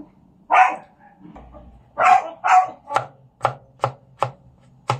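A dog barks loudly nearby a few times, mixed with rapid knife chops on a cutting board, cutting bottle gourd into small pieces, that continue in a steady rhythm.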